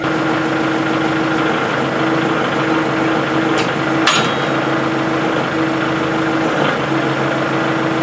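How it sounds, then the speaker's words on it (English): A tractor idles steadily, powering the hydraulic cylinder of a homemade post hole digger down pressure unit; the engine drone holds even throughout, with a brief clank near the middle and no talking. "But now I'm going to energize the hydraulic cylinder."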